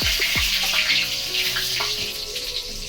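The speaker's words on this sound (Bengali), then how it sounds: "এবার তেলে আমি ওই ভাজা তেলে গোটা জিরে" Whole cumin seeds and bay leaf crackle and hiss in hot oil, with a steady, bright sizzle and a few sharp pops near the start, close by with no talk.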